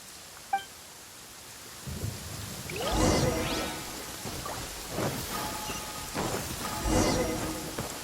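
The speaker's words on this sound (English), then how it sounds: "Uh-oh! Lightning storm!" A thunderstorm with steady rain in the Genshin Impact video game, with rumbling thunder rolling in waves and louder cracks around the middle and end over a constant rain hiss.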